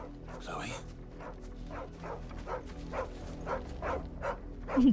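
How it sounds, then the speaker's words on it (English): A dog barks in a regular series of about ten short, moderately close barks in the video game Final Fantasy XVI, with faint game ambience beneath and a brief whimpering yip at the end. "Clearly that's not Chloe, that's dog"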